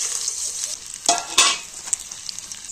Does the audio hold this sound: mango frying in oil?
yes